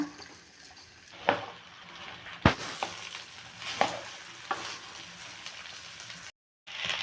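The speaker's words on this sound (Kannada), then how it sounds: "ಈಗ ಬೆಂಡೆಕಾಯಿನ ಹಾಕ್ಕೊಂಡು ಒಂದು 5 ನಿಮಿಷ ಎಣ್ಣೆಯಲ್ಲಿ ನೀಟಾಗಿ ಫ್ರೈ ಮಾಡ್ಕೊಳ್ಳೋಣ" Okra fries in oil in a pan with a continuous, fairly quiet sizzle, interrupted by several sharp spatula scrapes and clanks against the pan, and a brief moment of silence near the end.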